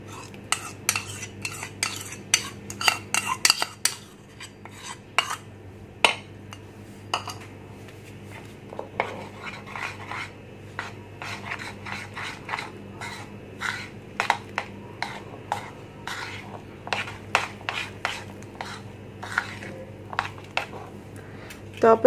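A utensil scrapes and clinks against a bowl while curd and oil are mixed together for a hot milk cake, making steady irregular taps and stirring scrapes, close and moderately quiet throughout.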